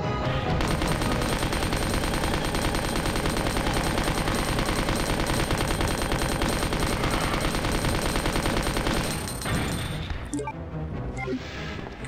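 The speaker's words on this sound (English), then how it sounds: "We're almost out of ammo on this machine gun." A machine gun in Resident Evil 2 fires a long, loud, unbroken burst of rapid shots for about ten seconds, then cuts off into quieter game ambience.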